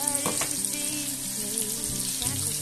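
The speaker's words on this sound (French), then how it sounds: "Je vais faire revenir dans l'huile." A crushed spice mixture fries in hot oil for Cameroonian poulet DG with a continuous bright sizzle, while background music with tonal lines plays throughout.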